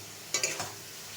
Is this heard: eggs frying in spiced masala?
yes